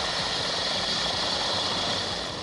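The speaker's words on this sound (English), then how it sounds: "TVP World is about to fly in the air in one of these helicopters of the Icelandic Coast Guard" Icelandic Coast Guard helicopter heard up close, a loud, steady broadband roar of engine and rotor filling the whole stretch without letup.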